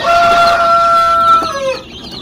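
Chicks ordered for shipping to the province peep loudly and close, with a couple of sustained high calls followed by fainter chirps.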